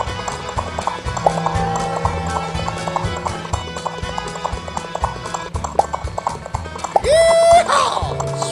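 Hooves of a ridden horse clip-clopping steadily in a video game over music, ending in a loud whinny.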